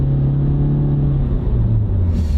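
An old Honda car with a CVT accelerates with a loud, steady rumbling drone from inside the cabin, its engine note holding an even pitch and then rising slightly near the end, with no talking.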